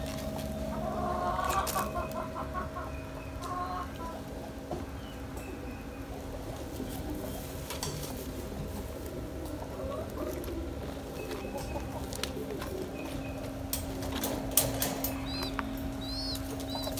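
A young Silver chicken hen clucking softly now and then, with a few brief wing flutters over a steady low hum.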